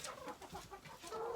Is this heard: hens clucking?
yes